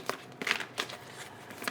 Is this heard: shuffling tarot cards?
yes